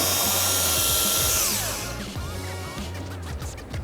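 A small power polisher runs on the paint of a five-year-old car during a light polishing job, giving a steady close mechanical whir with a wobbling pitch that eases slightly as it continues.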